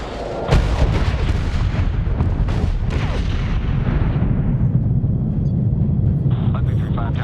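Aircraft cannon fire in the video game Medal of Honor (2010): a rapid burst of heavy booming shots rolls out over a few seconds, then fades into a low sustained rumble while radio chatter continues underneath.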